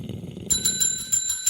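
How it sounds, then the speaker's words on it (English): Old-time radio style thunder effect with a metallic bell ringing in a series of bright, quick strikes after a low rumbling start, no voices present. "Why does the thunder have a bell?"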